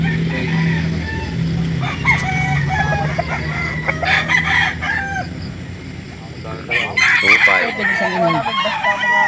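Several roosters crow repeatedly amid clucking fowl at a busy chicken market in Calauan, Laguna, with a steady low engine hum and scattered background voices throughout.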